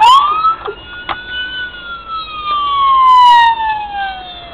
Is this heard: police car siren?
yes